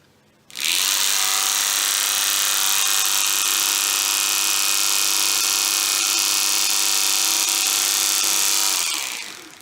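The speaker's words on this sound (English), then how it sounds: "As soon as I connect these two, motor will start and there will be a reading on the multimeter." A small electric DC motor spins steadily in a simple multimeter test circuit, its whine starting abruptly after a brief quiet moment and running loud and even for about eight seconds before cutting off.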